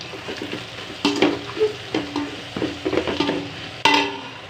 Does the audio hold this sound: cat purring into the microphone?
no